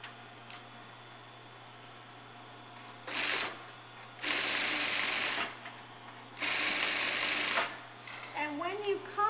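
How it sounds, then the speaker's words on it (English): An overlock sewing machine finishes fabric edges for a skirt in three loud, close bursts of rapid stitching separated by quiet pauses, with a brief rustle of handling at the end. "I'm just going to finish the edges with an overlock."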